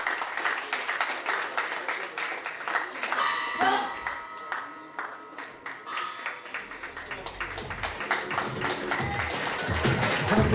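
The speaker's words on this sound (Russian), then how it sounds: "Аплодисменты боксерам в ринге!" Crowd applause for boxers in the ring at a boxing event, scattered clapping with sharp taps and pings under a voice talking over the arena.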